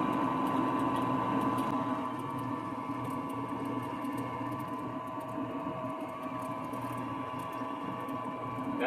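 A drill bit bores a long hole in metal with a continuous whirring, grinding hum at even pressure, fairly quiet and steady throughout with no talking.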